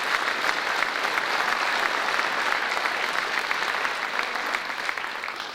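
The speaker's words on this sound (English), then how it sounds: "If we could give him a round of applause." Steady applause from an audience at an athletics hall of fame induction ceremony, dense continuous clapping that holds loud throughout and eases slightly toward the end, with no talk over it.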